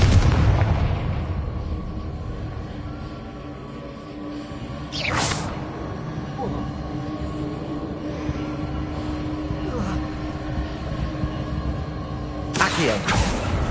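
The Confringo explosive spell in Hogwarts Legacy bursts with a sharp blast and a rumbling tail. A second loud crack comes near the end, over a constant dense bed of game noise.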